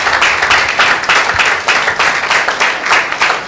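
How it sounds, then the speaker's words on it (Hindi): A church congregation at a Sunday service applauds loudly and steadily, dense clapping from many hands filling the room without pause. "एक जोरदार ताली देते हैं प्रभु यीशु मसीह के नाम को।"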